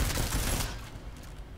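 Gunfire in the video game Deus Ex: Mankind Divided comes as a quick burst of rapid shots at close range, loud at first and then fading out within a second or so.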